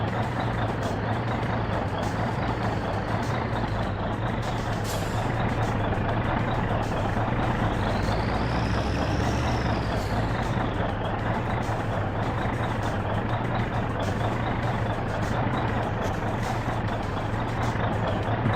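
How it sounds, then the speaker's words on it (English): A bus engine running in the game My Winter Car, a loud steady diesel rumble with a high whine rising and falling in the middle, continuous throughout. "Bus is running again."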